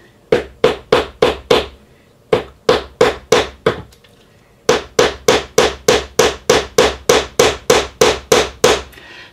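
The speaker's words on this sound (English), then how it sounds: "I put it on a block of metal now, and then I just very lightly rivet it over." A hammer lightly riveting over the end of a hinge pin set on a metal block: about twenty-two crisp, ringing strikes in steady bursts of four to six, with two short pauses, close and alone.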